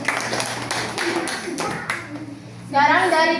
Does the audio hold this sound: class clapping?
yes